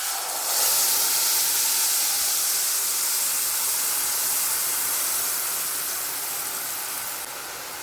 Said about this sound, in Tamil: நூறு கிராம் புளி அதை இப்போ அந்த எண்ணெயில் சேர்த்துக்கலாம்